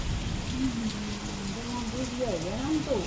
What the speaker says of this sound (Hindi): तेज बारिश है।